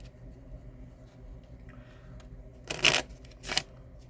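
A tarot deck is shuffled in two quick papery riffling bursts near the end, the second shorter, after a quiet stretch of low room rumble.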